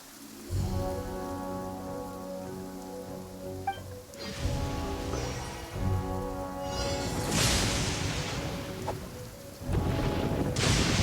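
A heavy rainstorm pours down steadily while rolling thunder booms and rumbles several times, with sustained tonal musical layers running underneath throughout.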